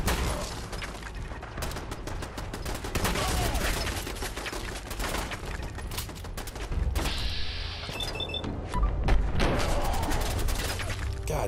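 Sustained rapid gunfire in Fallout 4 at the Boston Public Library, an enemy shooting through a wall: dense, loud automatic bursts almost without pause, with brief mechanical clicks midway.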